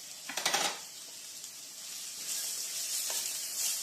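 Curry leaves hitting hot oil for a sardine curry: a sharp burst of crackling sizzle at first, then a steady hiss with faint stirring, close and fairly loud.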